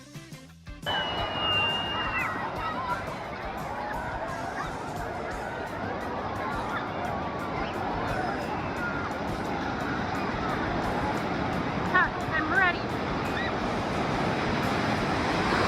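Surging water roars in a continuous wash as waves up to 6 feet crash in a water park wave pool, with a crowd's distant voices and a brief spoken line near the start.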